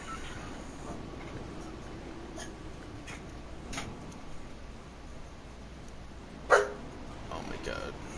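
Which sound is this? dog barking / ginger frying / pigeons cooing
dog barking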